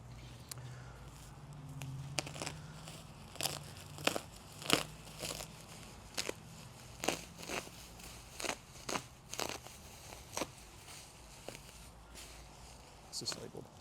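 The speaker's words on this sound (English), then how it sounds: "Why don't we just unwrap one of these?" Packaging crinkles and crunches as a 6x6 Extrema Ratio portal axle is unwrapped, a steady run of sharp rustling bursts close by over a faint low hum.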